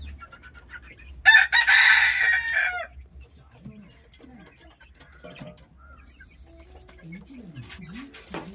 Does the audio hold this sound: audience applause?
no